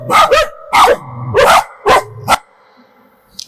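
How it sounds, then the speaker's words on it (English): Dogs barking in a Bali agroforestry garden of clove, coffee and banana, with five or six loud, close barks and yips in a quick irregular burst, then quiet. "so lots of dogs"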